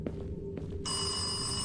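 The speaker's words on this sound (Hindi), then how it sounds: "यहाँ पर टेलीफोन कैसे चल रहा है?" A telephone rings inside a dark, locked-up mansion in a horror video game, a short bright electronic trill cutting in after a few faint knocks and thumps.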